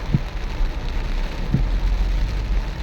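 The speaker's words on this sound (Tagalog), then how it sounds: "Grabe lang lakas ng ulan, may baha sa kalsada" Heavy rain pours down on a flooding street, a constant hiss of water on surfaces with a low rumble underneath.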